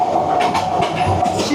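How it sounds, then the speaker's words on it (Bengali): A passenger train on the Chittagong–Dhaka line pulls into Sitakunda railway station with a loud, close, continuous rumble and a rhythmic clatter of wheels over the rails. "সীতাকুণ্ড রেলওয়ে স্টেশনে ট্রেন প্রবেশ করে গেল।"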